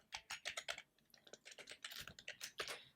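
Code is typed into Dev C++ on a computer keyboard: quick, quiet, close-up keystrokes in irregular bursts with a brief pause partway through, no voices.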